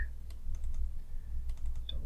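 Computer keyboard keys pressed for a paste shortcut: a few faint, quick keystroke clicks over a low steady room hum, with no talking.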